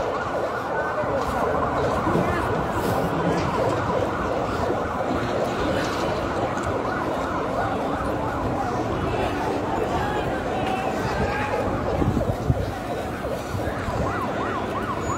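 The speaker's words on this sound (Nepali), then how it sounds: "एम्बुलेन्स घाइते भएका प्रहरीलाई लिनको निम्ति एम्बुलेन्स आइरहेको छ।" Ambulance siren sounding continuously amid a protest outside the parliament building in Baneshwar, a steady wailing tone held throughout, mixed with crowd noise and nearby voices.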